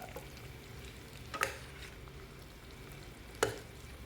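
Chicken fried rice being stir-fried in a pan, with a steady soft sizzle under two sharp clinks of a utensil against the pan.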